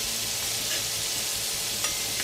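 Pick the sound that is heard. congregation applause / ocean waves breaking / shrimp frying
shrimp frying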